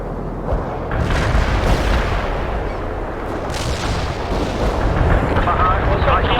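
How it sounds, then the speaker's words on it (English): Heavy artillery firing in the video game World in Conflict, heard as a dense rumble of overlapping booms and blasts that stays loud throughout, with a voice speaking over it. "Heavy artillery firing for effect."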